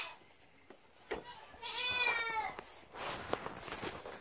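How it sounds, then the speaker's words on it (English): A goat in a barn gives one drawn-out, wavering bleat in the middle, moderately close, with soft rustling and faint footsteps before and after. "There's Mo-Goat"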